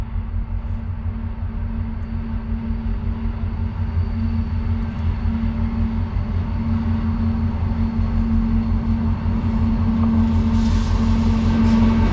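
A long, steady low rumble of a heavy CSX freight train rolling past, with a sustained engine drone and constant mechanical clatter throughout.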